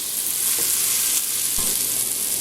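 Butter melts in a pan with a steady, loud sizzle and frying hiss, broken by a couple of brief stirring or scraping touches.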